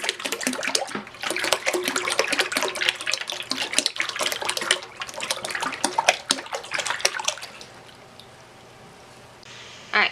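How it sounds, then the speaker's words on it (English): Milk poured into a slow cooker while making homemade cottage cheese: a steady, close splashing stream of liquid runs for about seven seconds, then tapers to a quiet trickle before a brief clatter at the end. "you are going to want to add your milk to your slow cooker"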